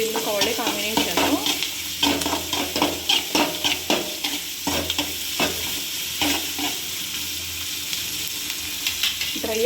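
Onions frying in a pan for Karnataka-style sambar, stirred with a steady run of scraping strokes over a soft continuous sizzle, close and fairly loud with no talk.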